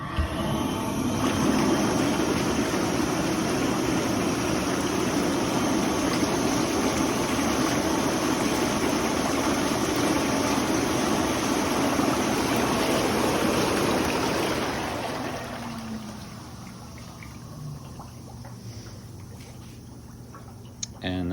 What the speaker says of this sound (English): I can show you guys the bubbles here quick now that I've unlocked it